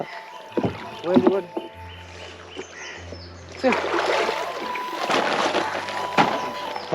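A wooden rowing boat is pulled through the water of a tidal creek during an outing to gather oysters, with sloshing splashes and knocks close by while people talk and laugh.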